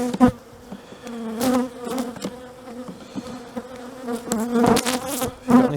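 Honey bees buzz steadily around an opened hive as frames are handled during a spring inspection after winter, the hum swelling and fading with brief louder passes close by.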